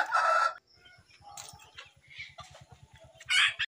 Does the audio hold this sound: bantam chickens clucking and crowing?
yes